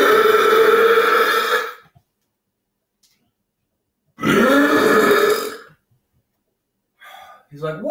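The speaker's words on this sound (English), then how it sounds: "How dare you burp in my face like that?" A man belches as loud as he can after eating four packets of ramen and four eggs. Two long, deep, rumbling belches come up close with a silent pause between them, then a shorter voiced sound at the end.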